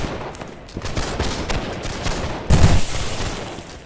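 Musket volleys in the line-battle game Holdfast: Nations At War, a ragged crackle of many shots near and far, with a louder close burst partway through.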